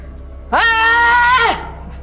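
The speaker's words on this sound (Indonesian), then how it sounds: "Terus coba deh teriak sekencang-kencangnya." A woman screams as loudly as she can, one loud, sustained, high-pitched cry lasting about a second with a rising onset and falling tail, alone against a quiet room.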